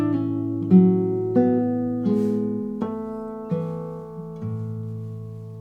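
Acoustic guitar picks out the closing measures of Brahms' Lullaby, about seven plucked notes in a slow, even rhythm, each ringing and decaying cleanly, close and clear with no voices.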